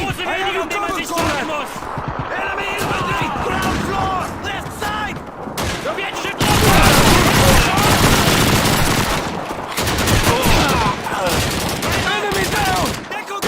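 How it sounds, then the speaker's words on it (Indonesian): Gunfire in Call of Duty 2 crackles in dense rapid bursts and single shots from behind, loud and near, with a player talking in between volleys. "Kayak ada yang nembak aku dari belakang ya."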